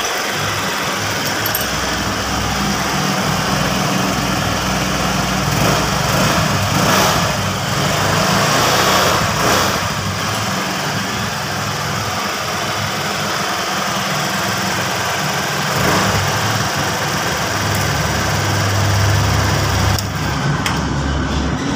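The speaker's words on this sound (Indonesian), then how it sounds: "Sekarang untuk motor sudah hidup." A Honda Vario 110 scooter engine idles steadily up close after being repaired from stalling, a constant buzzing rumble with slight fluctuations and no talking.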